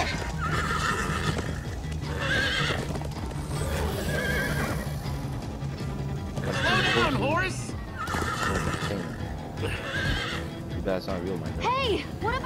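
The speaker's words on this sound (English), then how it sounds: "The horses. Perfect." Horses whinny and neigh repeatedly over rapid clip-clopping hooves in Minecraft: Story Mode, loud and close, with voices talking throughout.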